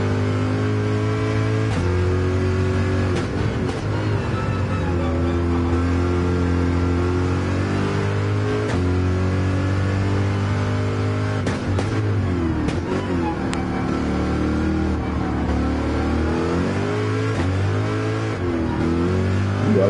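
A Chevrolet stock race car engine in a PS4 racing game drones and revs continuously, pitch rising and dipping through gear changes, loud and close from the driver's view with no voices.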